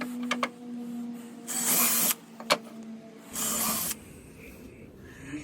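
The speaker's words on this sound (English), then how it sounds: "So we're just going to drill a few pilot holes." A power drill bores pilot holes in pine wood in a few short whirring bursts separated by pauses, close and moderately loud, with a faint steady hum underneath.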